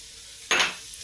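A short burst of stirring as flour goes into a chowder base in a pot, a brief scraping swish over a soft background hiss, with no voices.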